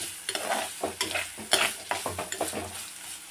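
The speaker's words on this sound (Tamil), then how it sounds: "இப்போ இதுலேயே நம்ம துருவனை தேங்காவை சேர்த்துக்கலாம் நல்லா கலக்கி விட்டுருங்க" Snake gourd stir-fry with grated coconut is stirred in a hot pan, with rhythmic spoon scrapes and clatters over a soft sizzle, close and fairly loud.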